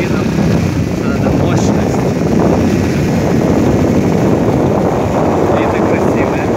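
Strong cold wind roars continuously across the microphone on a winding mountain road near the Mount Bromo volcano in Indonesia, a steady buffeting rumble with a faint engine drone beneath it.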